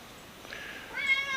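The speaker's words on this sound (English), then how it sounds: "That's my cat." A pet cat meows at a lowrider car show, a short, clear, rising-and-falling cry with a bright harmonic tone, fairly close and alone over a faint background hum.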